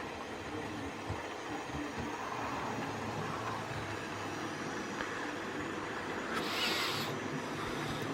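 A model railway locomotive runs smoothly, giving a steady, low, continuous rumble and whir at moderate level. A brief brighter hiss rises near the end.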